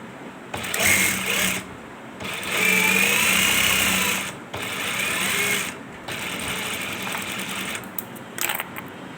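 A sewing machine runs in several steady bursts while stitching a ladies' belt-style shalwar, its motor whirring loud and close with short pauses between runs.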